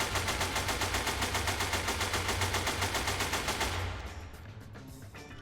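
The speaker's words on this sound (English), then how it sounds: "Among the new guns, there's also the A7, which is basically like a squashed AK." Rapid automatic fire from the A7 rifle in SCP: Secret Laboratory, a compact AK-style gun, a steady fast rhythm of loud close shots for about four seconds, then cutting off to a fading echo.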